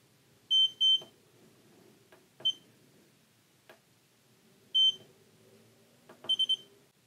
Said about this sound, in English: the short press does a faster beep and flashes faster